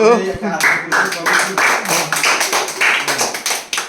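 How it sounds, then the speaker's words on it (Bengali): A group of players in a Bengali party game joins in a burst of hand clapping, a series of quick, fairly loud claps in uneven bursts with voices mixed in. "সবে একটা হাততালি"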